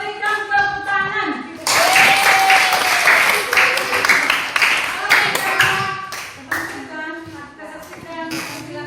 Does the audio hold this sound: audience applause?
yes